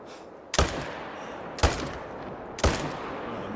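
Three separate hunting rifle shots in theHunter: Call of the Wild, each a sharp loud crack with a short decaying tail, spaced about a second apart against a quiet background.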